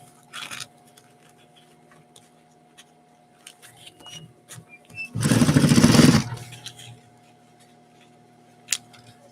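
An electric sewing machine runs in one steady burst of about a second while stitching a zipper, loud and close, surrounded by quiet handling noises and a steady low hum.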